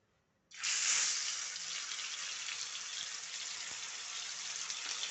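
Salted eggplant slices drop into hot oil for a homestyle fry, setting off a sudden loud, hissing sizzle that holds steady and bright without pause.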